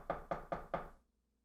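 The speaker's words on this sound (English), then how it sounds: "Richard is banging on the door. The door chimes ring as he pounds on the glass." Four evenly spaced, firm knocks pound on a glass door, close and loud, then silence.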